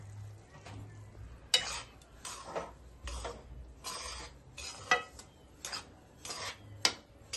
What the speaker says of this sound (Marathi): तर हा रवा मी तूप टाकून छान भाजून घेते